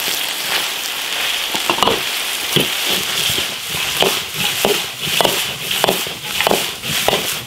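Crayfish frying in an iron wok with seasoning, a bright continuous sizzle broken by repeated scraping strokes of tossing and stirring, close up.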